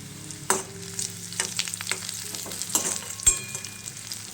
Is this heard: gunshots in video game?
no